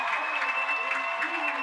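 A football stadium crowd cheering and applauding a dance team, a dense steady roar of clapping and shouting at a distance, with a commentator's voice running over it.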